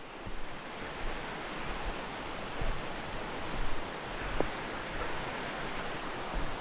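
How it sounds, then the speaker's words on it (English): A swollen mountain stream rushes down during a hike along Rock Creek in Montana, a steady broadband roar of water close by with slight surges, no voices over it. "the river is so high that the mountain stream here is coming down"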